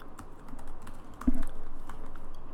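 A password being typed on a computer keyboard, a steady run of quick close key clicks with one louder thump midway, no talk.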